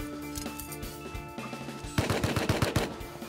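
Rapid gunfire in the survival game Rust: sparse shots at first, then a loud, quick string of closely spaced bursts toward the end, with no talk over it.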